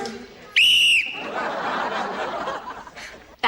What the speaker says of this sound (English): I know what the whistle's for.